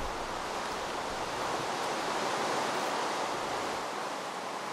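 Steady rain in the video game Minecraft, a dense, even hiss of falling drops that holds constant throughout with no talking over it.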